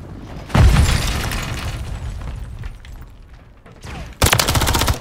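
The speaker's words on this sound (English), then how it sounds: "Oh, I forgot I got a grenade launcher." Grenade launcher explosions in a military shooter video game: a heavy boom near the start, rumbling gunfire in between, and another loud burst of blasts near the end.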